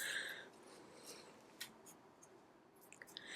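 Scissors snipping paper while trimming pieces for a Valentine's gift box, a few quiet crisp cuts spaced irregularly over a faint background, close and soft with no talk.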